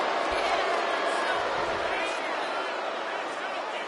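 A video game arena crowd in WWE 2K25 roars in a loud, dense, sustained cheer at a wrestling match, with a commentator's voice over the noise.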